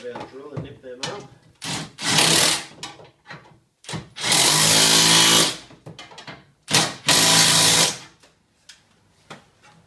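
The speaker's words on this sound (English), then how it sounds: "So we'll just grab our drill and nip them up." Several short bursts of a power drill whirring up close while tightening nuts on a roller door motor, each a second or two long, with a voice talking between them.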